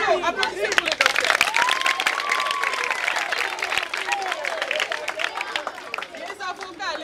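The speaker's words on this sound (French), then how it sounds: "Bravo, applaudissez pour le docteur." An indoor crowd at a gathering breaks into dense, sustained applause, many hands clapping loudly together with cheering voices and chatter mixed in.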